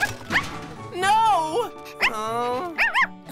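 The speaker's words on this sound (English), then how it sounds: "I want a puppy like this." A cartoon puppy yips and barks in several short bursts of rising and falling tones, close and fairly loud, with a brief spoken word among them.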